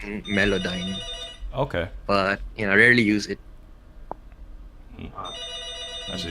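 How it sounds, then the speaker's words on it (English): A phone rings in the background during a podcast conversation, with repeated high chiming rings between and under two people talking, fairly faint behind the voices. "But sorry about the phone in the background."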